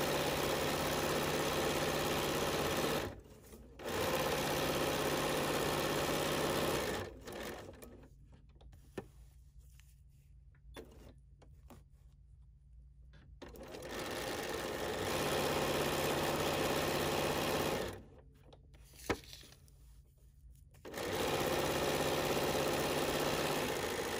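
A sewing machine stitches a quilt piece for a Vintage Boardwalk quilt in steady, close, running bursts, stopping briefly and pausing for longer stretches of near silence before starting up again.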